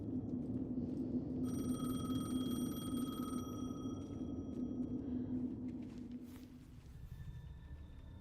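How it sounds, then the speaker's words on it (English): A payphone rings in the game Alan Wake 2, a steady electronic ring held for a few seconds over a low ambient rumble, followed by a quieter tonal ring. "The payphone was ringing."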